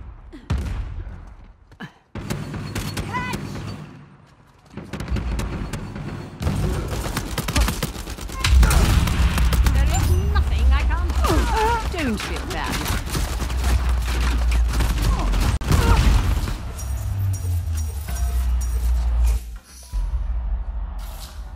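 Gunfire rattles through a firefight in the video game Uncharted 4: bursts of automatic and single shots with clanks and mechanical noises, loud and dense, with brief pauses between volleys.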